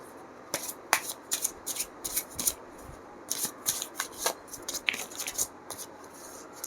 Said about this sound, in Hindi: थोड़ी ठीक करके दोबारा से शफल करते हैं।